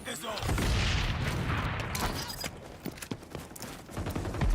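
A grenade detonates in the XDefiant shooter, a loud close boom with a rumbling tail, followed by scattered gunshots and clattering impacts as a voice talks over the action.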